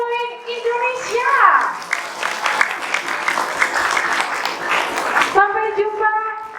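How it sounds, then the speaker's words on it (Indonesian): Applause from an audience at an Indonesian event for children who memorise the Quran, a dense burst of clapping hands over several seconds, with a voice speaking before and after and a voice in between. "Sekali lagi saya mohon tepuk tangan yang meriah untuk Zahrawain Indonesia."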